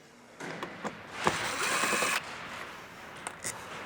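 An impact driver with a T30 Torx bit loosens roof rack bolts on a 2008-2022 Toyota Sequoia, giving one sustained rattling burst of close, moderately loud hammering between shorter clicks and handling noises.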